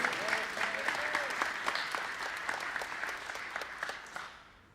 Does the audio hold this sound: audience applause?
yes